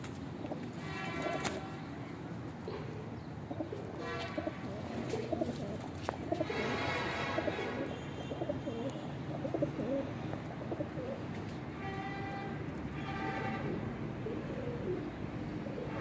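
Pigeons, including a Zira pigeon, coo repeatedly in soft, throaty bursts around a loft, with layered calls overlapping at moderate distance and no talking.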